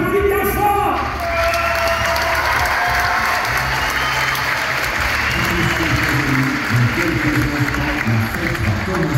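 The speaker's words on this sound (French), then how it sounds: "pour les champions romains et gaulois, on applaudit bien fort" Audience applauding at a Parc Astérix show, with dense, sustained clapping and scattered cheers and shouts from a large crowd throughout.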